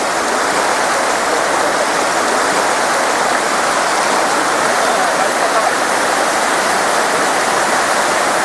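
Overflowing Kala Oya river floodwater surges across the inundated Mana Eluwankulama road in Puttalam district, a loud, steady, close rushing roar with no break and no voices.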